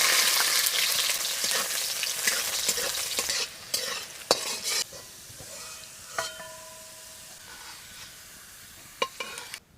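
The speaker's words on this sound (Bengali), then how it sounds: "আদা রসুন ভালো করে ভেজে নিয়েছি।" Ginger and garlic fry in a pan in hot oil with a bright, loud sizzle that slowly fades, while sharp spatula scrapes and clinks cut through it at irregular intervals, heard close up.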